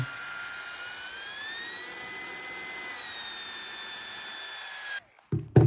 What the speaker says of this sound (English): kind of use the pump to suck the rest of the air out, which I find is really handy on the mattress